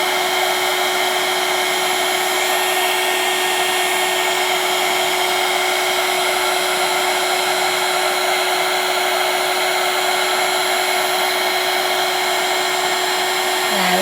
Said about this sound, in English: just melting that embossing powder down like so